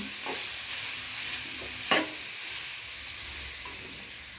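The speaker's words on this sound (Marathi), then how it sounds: "तर आपण एक पाच दहा मिनिट तुपामध्ये चांगलं गाजर परतून घेणार आहोत" Carrots sautéing in ghee in a pan make a quiet, even sizzle, broken by one short scrape of a stirring spoon, with no one talking.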